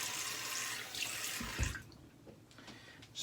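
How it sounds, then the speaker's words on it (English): Cold water runs steadily from a bathroom tap for a post-shave rinse, a bright hissing stream that cuts off partway through, leaving a quiet room with faint drips and small handling sounds. "Doing the cold water rinse."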